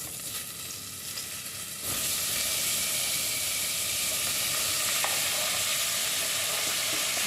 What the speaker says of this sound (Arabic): دابا غادي ندير البصله